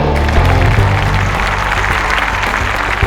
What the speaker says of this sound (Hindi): गड़गड़ाती हुई तालियों में